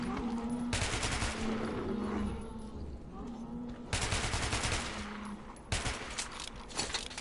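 Player's gun firing in the video game Metro 2033 Redux, three loud bursts of rapid automatic fire separated by pauses with a low drone between them.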